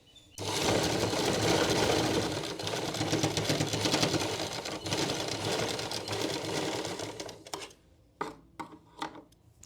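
A sewing machine stitches a sleeve onto a blouse with a steady, close, continuous whir for several seconds. It then slows and stops, leaving a few light knocks.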